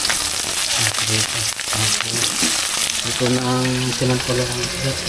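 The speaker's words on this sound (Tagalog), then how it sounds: "nag-prito na tayo" Fish sizzles and spits as it fries in a pan, a steady, loud crackle close up, while someone talks over it and a few musical tones play underneath.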